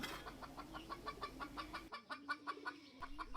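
Chickens cluck in a steady, close rhythm of short repeated calls that continue alone with no voices over them.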